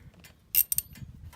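Ratchet wrench turning to loosen a spark plug on a Cub Cadet mower engine, giving a short burst of clicks followed by a couple of quick ratcheting snaps, close and fairly quiet.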